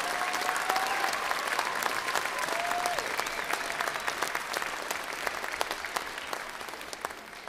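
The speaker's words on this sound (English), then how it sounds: "they deserve an extra round of applause for all their hard work" Sustained applause from an audience, dense steady clapping that slowly tapers, with no one speaking over it.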